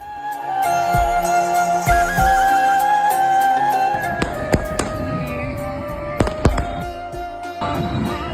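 Fireworks at a political party's felicitation event, with sharp bangs and crackles popping irregularly over a loud, tonal background of music or drones, several sharp blasts standing out near the end.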